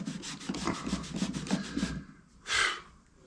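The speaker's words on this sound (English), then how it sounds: "Who goes around polishing gutters?" Rhythmic rubbing strokes of a polishing cloth scrubbing lime off a metal gutter downspout, close and steady for about two seconds, then a brief harsher scrape after a pause.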